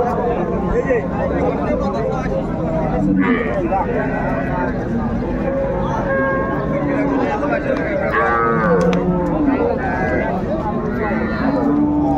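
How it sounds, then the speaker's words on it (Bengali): Sahiwal cows and calves moo repeatedly at a cattle market, several drawn-out calls over a steady background of people talking nearby. "শাহিওয়াল জাতের গাভী বাছুর আমরা দেখছিলাম"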